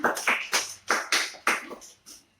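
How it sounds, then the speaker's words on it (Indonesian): Children clap for a classmate volunteer during a school tooth-brushing health lesson, about eight distinct close claps in a quick uneven rhythm that soften toward the end. "Ayo kasih tepuk tangan buat Anda udah berani buat masuk ke depan."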